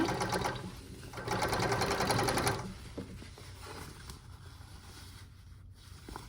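A blind stitch sewing machine hems sheer drapes in rapid, chattering bursts, loudest early on and then tapering to quieter mechanical ticks and rustling of fabric.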